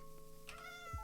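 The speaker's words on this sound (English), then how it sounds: "They meow a lot!" Cats meowing in the video game Minecraft 1.14, a couple of short, soft meows over quiet game music, faint and close with no talking.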